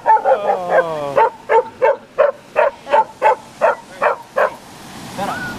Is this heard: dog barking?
yes